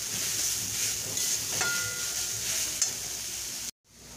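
Grated raw papaya frying in a pan and being stirred, a steady close sizzle with scraping strokes throughout, cutting off abruptly near the end, no talking.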